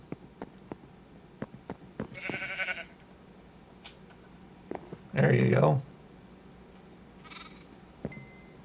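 Sheep in the video game Minecraft give two short bleats, the second louder and closer. Light clicks and a man's brief speech sit between them.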